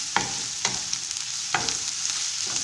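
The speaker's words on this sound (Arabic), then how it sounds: "نزيدها على البصل تاعي ونخليهم يتقلاو مليح" Carrots and onions frying in a pan, a soft continuous sizzle broken by a few sharp stirring scrapes and clicks, heard up close with no talk.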